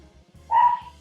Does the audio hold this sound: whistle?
no